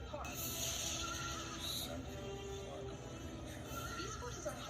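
Horses neighing in the Christmas comedy film Elf, whinnies rising over a dense, busy soundtrack with some talk mixed in.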